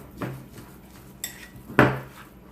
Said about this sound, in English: we're going to mix the salt in real good